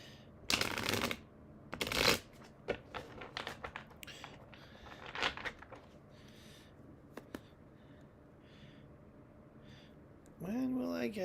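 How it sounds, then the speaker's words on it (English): Tarot cards being shuffled in several quick riffling bursts, loud and close, with softer card taps and handling between them and a brief voice near the end. "Oh, let me shuffle."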